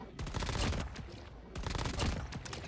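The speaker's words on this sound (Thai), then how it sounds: "เดี๋ยวเราลองยิงไปเรื่อย ๆ นะครับ หลาย ๆ ตัว เนาะ" Type 25 assault rifle firing in Call of Duty Mobile, shown off with a new weapon skin: two bursts of rapid automatic shots separated by a short pause, fairly loud, with no voices.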